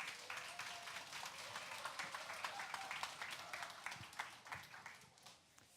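A church congregation at a whole-church retreat of Immanuel Ulsan Church claps to welcome the pastor. The applause is steady and dense, a full room of hands, and fades slightly at the end.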